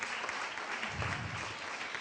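Spontaneous audience applause on an Italian TV talk show broadcast from a piazza, continuous dense clapping at an even moderate level throughout, with a faint low murmur swelling briefly midway.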